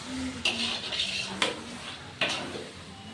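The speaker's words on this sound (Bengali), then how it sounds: "আজকে রাত্রে রান্না বান্না হচ্ছে এখানে রয়েছে পোস্ত ডিম আর এখানে চিকেন রান্না হচ্ছে" Pots, pans and utensils clatter in a kitchen where chicken is being cooked at night, with three sharp metallic clanks standing out over a steady background of cooking noise.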